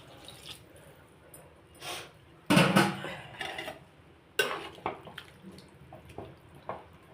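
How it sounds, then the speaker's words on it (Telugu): A glass of water poured into a cooking pot of raw prawns and chilli powder, brief splashing bursts and drips with a couple of louder pours among quieter clinks. "ఈ గ్లాసు నీళ్ళు పోస్తున్నా"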